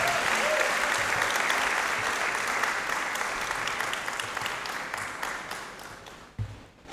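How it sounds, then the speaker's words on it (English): An audience at a university leadership event applauds warmly after a dance ensemble performance, dense sustained clapping that gradually thins and fades over several seconds. "Let's please show another round of applause."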